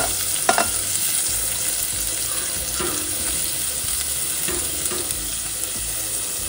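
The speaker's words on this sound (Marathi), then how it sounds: "कांदा आपल्याला तेलात छान गोल्डन ब्राऊन होईपर्यंत परतवून घ्यायचा आहे" Chopped onion frying in oil, a dense continuous sizzle with occasional stirring scrapes and clacks, close and fairly loud, no speech.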